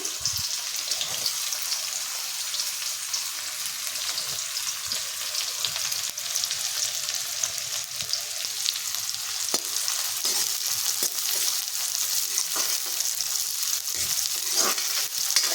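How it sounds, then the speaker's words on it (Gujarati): The white part of green onions hisses in hot oil with cumin, a dense, continuous sizzle broken by occasional clinks and stirring scrapes, heard up close and without speech. "હવે આપણે અહીંયા જે ડુંગળીનો સફેદ ભાગ છે એ આપણે પહેલાં તેલમાં નાખી દઈશું"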